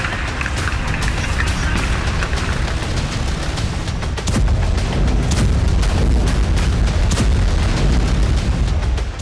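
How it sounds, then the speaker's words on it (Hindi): Missile strikes and explosions hit Russian cities, a dense run of loud booms, blasts and sharp cracks piling over continuous rumbling noise. "रूस के कई एयरबेस और सीमाई क्षेत्रों के शहरों पर मिसाइलों से हमले किए गए"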